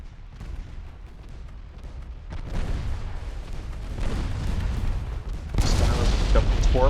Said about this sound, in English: Alright, torpedoes away.